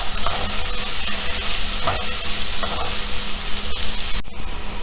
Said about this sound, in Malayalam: ഞാൻ അരിഞ്ഞു വെച്ച സവോള ഉണ്ടല്ലോ, അതിട്ട് കൊടുക്കുകയാണ് കേട്ടോ